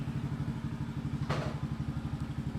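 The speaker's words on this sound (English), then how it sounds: "All right, let's take this thing out for a spin." A 2023 Honda Trail 125 motorcycle ridden, its small single-cylinder engine thumping in a steady, fast pulsing rhythm close by, with one brief clatter or thump midway.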